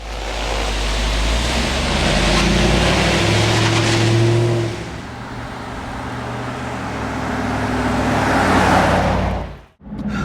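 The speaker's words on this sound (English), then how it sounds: "We're out doing our highway drive, and you know, going at highway speeds in a Jeep" Steady broadband road and wind roar inside a Jeep Grand Cherokee SRT8 cruising at highway speed, a continuous cabin hum that eases briefly midway and swells again, with a short dip near the end.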